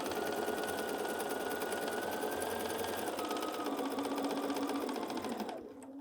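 A sewing machine runs a continuous quarter-inch seam along a marked line on quilt fabric, a close, steady, rapid whirr that slows and stops at the end.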